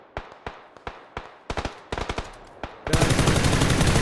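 Gunfire in the PUBG video game: spaced single shots, then quicker bursts of rapid fire, ending in a sustained loud automatic volley, close and punchy with no talking.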